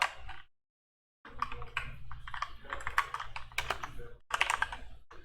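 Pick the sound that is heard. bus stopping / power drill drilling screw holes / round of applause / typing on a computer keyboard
typing on a computer keyboard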